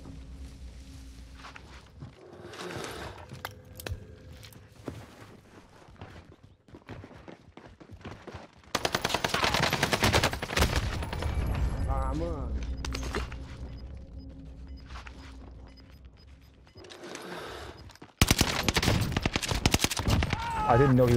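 Shooter video game gunfire: sparse distant shots early on, then loud, dense bursts of automatic fire and a heavier final volley, with footsteps and a player talking in between.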